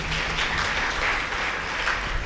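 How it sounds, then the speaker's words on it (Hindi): Audience at a spiritual discourse in Sirsa, Haryana, claps together in a dense, continuous burst of applause that stays steady and fairly loud throughout, with no talking over it. "ताली बजाइए"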